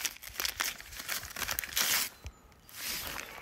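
Gift package being unwrapped by hand, close crinkling and tearing of paper in irregular bursts, louder rustles near the middle, then a softer steady rustle at the end.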